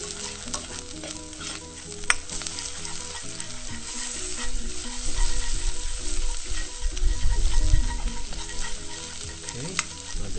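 A beaten egg is scrambled in a frying pan for vegan mixed vegetable noodles, giving a steady close sizzle with scraping stir strokes and a faint humming tone underneath, with no talk.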